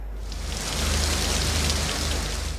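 Heavy rain pours steadily across the country in a continuous, dense wash of drops beating on surfaces, swelling slightly midway and staying loud throughout with no voices.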